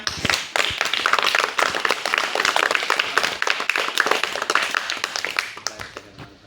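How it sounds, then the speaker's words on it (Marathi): Loud, dense applause from an audience at a village primary school quiz prize ceremony, many hands clapping steadily for about six seconds before tapering off at the end. "जोरदार टाळ्या वाजवा"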